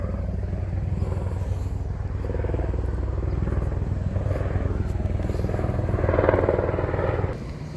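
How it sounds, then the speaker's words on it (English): A small helicopter passes overhead outdoors, its steady rotor thrum and engine drone continuing throughout, loudest near the end before easing off. "look, a little helicopter up there."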